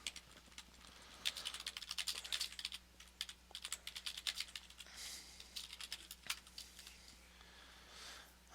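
Magic: The Gathering cards being shuffled during a tournament match, a quick run of crisp riffling and flicking bursts that come in clusters, fairly close, with a low steady hum beneath.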